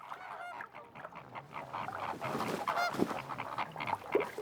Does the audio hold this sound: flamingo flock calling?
yes